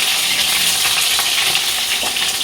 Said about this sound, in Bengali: আর এই ডিমটা ভাজবো